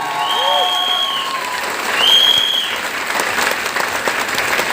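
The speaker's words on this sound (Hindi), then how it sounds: "एक बार जोरदार तालियां उन सभी लोगों के लिए," An audience breaks into loud applause, a dense stretch of clapping with a few whistles cutting through near the start.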